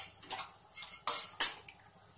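A metal lid set onto a pot of zarda rice, producing a few light clinks and scrapes, several quick metallic taps close by over a quiet background.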